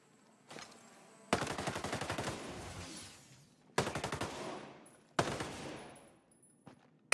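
Shotgun gunfire in Ghost Recon Breakpoint comes in four separate loud bursts of quick, rattling shots, each ending in a fading echo, with short quiet gaps between them.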